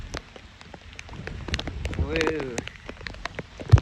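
Rain patters steadily on a farm, a dense scatter of soft drops and taps close by, with a brief shout breaking through partway.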